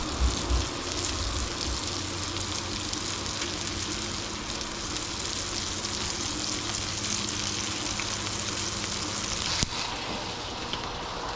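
Hot dogs fry in a pan alongside peppers, giving a steady, quiet sizzle and crackle throughout, with a brief clatter near the start and a sharp tick toward the end.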